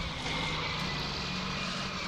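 Farm tractor engine straining steadily to pull a trailer stuck in deep mud after a storm, a loud continuous droning roar with no talk.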